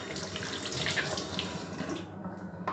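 Baby bottles rinsed under a running kitchen tap, a steady close splashing rush of water with shifting spatter as the bottles are moved, no talk.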